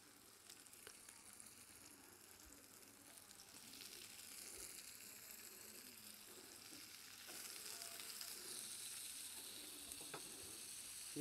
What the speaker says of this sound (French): on va faire revenir l'oignon et les poivrons